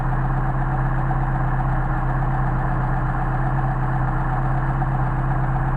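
A Mercedes 190SL engine on Solex carburetors idles smoothly and steadily around 800 rpm, a close, even, rumbling drone with constant low pulsing and no one speaking.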